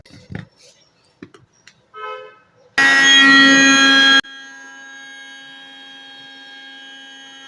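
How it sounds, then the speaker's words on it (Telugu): A kitchen mixer grinder whirs loudly and steadily for about a second and a half as it churns cream and water into butter, then cuts off to a lower lingering hum, with brief speech beforehand. "ఇప్పుడు మనం దీన్ని మిక్సీ పడదాం"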